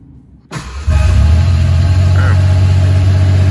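A 1988 Ford Bronco II engine, just fitted with a new TFI ignition module, cranks briefly after a quiet moment, then fires and settles into a loud, steady, low rumbling idle close by.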